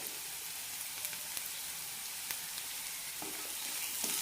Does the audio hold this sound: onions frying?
yes